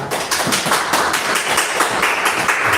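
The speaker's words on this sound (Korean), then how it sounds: "모두 사랑과 환영의 박수로 모시겠습니다." A church congregation at a fourth-anniversary Advent service claps to welcome the preacher, a short, close, rhythmic burst of hand claps.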